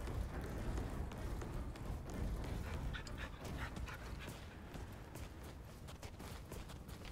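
A dog in the video game Remnant 2 whimpers and yips in short, repeated bursts over a dense bed of game ambience, fairly close and moderately loud throughout.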